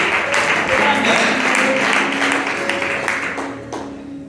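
Applause from a church crowd at an evangelistic gathering in Kagango, Uganda, welcoming visiting ministers: a steady, dense wash of clapping that holds for several seconds and then thins out.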